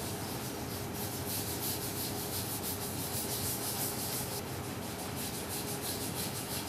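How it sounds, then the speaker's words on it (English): A clean t-shirt rag rubs dye onto wood veneer in a continuous close scrubbing hiss with a faint back-and-forth rhythm. It is quiet and steady, with no voices. "And now we're just going to rub it on there."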